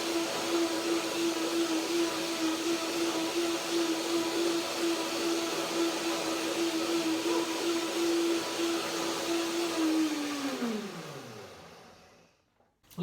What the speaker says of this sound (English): Do one more blender dance to get the dressing ready.